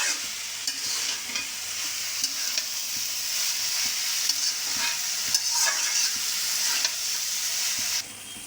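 Taro curry sizzles in a pan and is stirred and fried down in its own released liquid, with repeated scraping strokes over a constant moderate hiss that quiets near the end.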